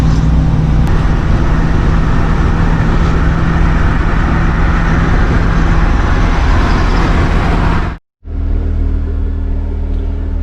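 Loud, continuous road rumble and engine drone come from inside a Winnebago RV as it drives through the streets, with a brief cutout near the end before the steady noise returns.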